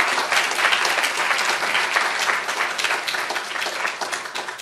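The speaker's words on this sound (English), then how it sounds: "Let's give him another big round of applause." An audience at a health policy fellowship launch ceremony bursts into applause, a dense, steady wash of many hands clapping that slowly tapers toward the end, with no voices over it.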